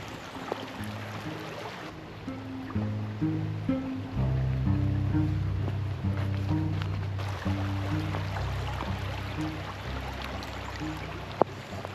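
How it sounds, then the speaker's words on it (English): A flowing creek in a rainy forest during an atmospheric river in Langley, a steady close rush and babble of water with low tonal hum underneath, no speech. "Look at this beautiful creek."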